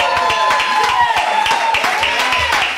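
A church congregation claps in a lively burst of applause, dense and close, with voices mixed in over the clapping.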